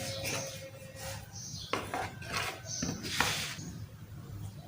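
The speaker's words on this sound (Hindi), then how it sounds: "अभी इसको मिक्स करते हैं।" Flour, milk and yogurt are mixed in a bowl for a cake paratha batter, with close scraping and clinking of a spoon against the bowl in uneven strokes.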